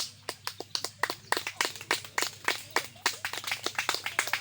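Scattered audience clapping at a debate club inauguration, distinct individual claps in an uneven, fairly quick rhythm from a small crowd, somewhat distant, with no talk over it.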